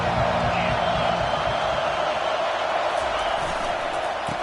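A football stadium crowd keeps up a broad, distant roar of cheering, steady throughout beneath a commentator's voice.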